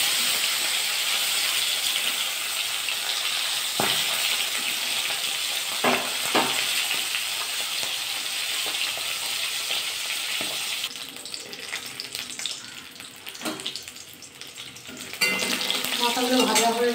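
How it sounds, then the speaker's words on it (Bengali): Rohu fish heads fry in oil in a pan with a steady, close sizzling hiss that runs throughout, alone, with a few faint clinks and a louder burst near the end. "আপনি ভাজা করলাম মাছের মাথাগুলো, একটু ভাজা হয়ে গেছে।"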